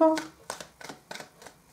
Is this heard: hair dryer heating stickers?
no